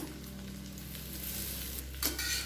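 Eggs fry in a pan for an egg pepper fry with a constant close sizzle of hot oil, and a brief stir or turn near the end adds a short burst of crackle.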